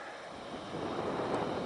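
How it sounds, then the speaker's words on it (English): Steady broadband winter wind, about 15–20 km/h with 35 km/h gusts, rushes across the microphone in Canada, swelling stronger in the second half with a rough, blustery roar and no voices. "But the gusts are pretty windy."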